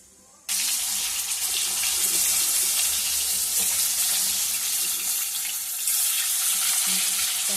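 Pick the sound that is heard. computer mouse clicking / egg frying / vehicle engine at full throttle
egg frying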